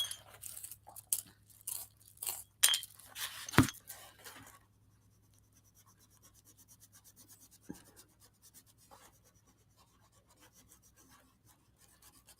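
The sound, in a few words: sharpening a colouring pencil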